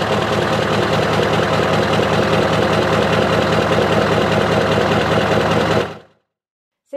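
A big Scania V8 diesel truck engine idles loud and close, a steady rough knocking rumble that suddenly cuts off, leaving silence.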